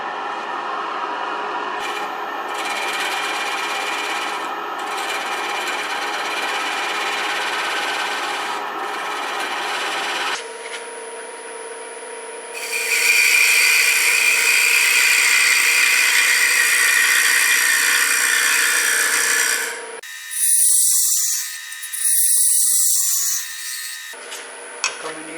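A wood lathe cuts a tenon on a deer antler bowl, giving a loud, steady scraping rasp that runs for long stretches, breaks off briefly, then comes back in several bursts.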